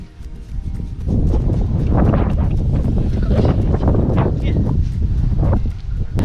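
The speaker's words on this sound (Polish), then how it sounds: "Wieje, tu nic nie słychać, ty." Strong wind buffets the microphone outdoors at a horse stable, a loud, continuous rumbling roar that swells and stays heavy throughout, with faint voices partly buried beneath it.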